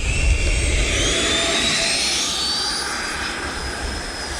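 A Freewing F-15 90mm electric ducted-fan RC jet flies past with flaps lowered, its steady high-pitched whine and rushing air loud and continuous, shifting pitch slightly as it moves.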